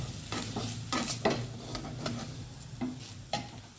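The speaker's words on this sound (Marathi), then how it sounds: "चांगलं हलवून घेणार आहे" Masala for masvadi is stirred in a hot pan under a soft, steady sizzle, with repeated scraping strokes of the spoon. Close and fairly quiet, with no talking.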